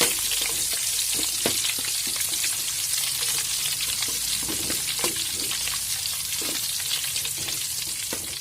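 Spices with turmeric and lemongrass frying and being stirred in a pan for squid sambal, a steady close sizzle with scattered scraping clicks of the spatula throughout, no voices.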